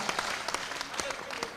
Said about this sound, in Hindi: जोरदार तालियों से आदेशित करें